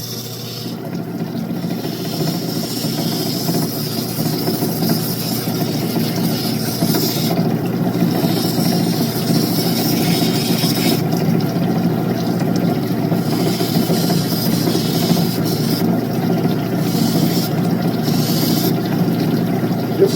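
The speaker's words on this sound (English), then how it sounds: "Start taking out the grind marks from the last wheel." A lapidary wheel grinding Persian turquoise with pyrite in yellow matrix: a steady, loud motor hum with continuous grinding runs for the whole stretch, and intermittent scraping bursts come and go as the stone is pressed to the wheel.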